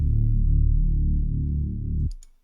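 A deep, sustained synthesized Reese bass tone for dark liquid drum and bass drones for about two seconds, then cuts off abruptly, leaving a brief bright ticking.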